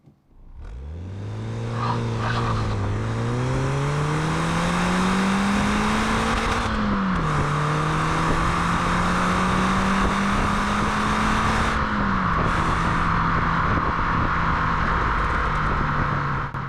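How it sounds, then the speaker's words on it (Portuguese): A 1997 Ford Puma's engine revs hard on the open road, climbing through the gears with loud, sustained rising pitch, brief dips at each shift near seven and twelve seconds, steady wind and road noise underneath. "é realmente um motorzinho muito gostoso, animado e que gosta de subir de giro"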